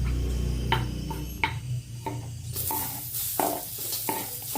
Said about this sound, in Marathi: आता आपण कांदा टाकणार आहे भाजायला